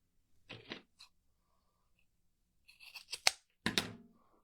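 Scissors cutting soft ribbon for an Easter sign, a few close crisp snips in two short bursts separated by a quiet pause.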